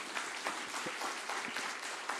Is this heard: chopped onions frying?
no